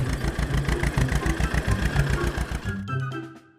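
A mini tractor engine runs with a fast, steady chugging pulse, loud and close, then drops off and fades near the end.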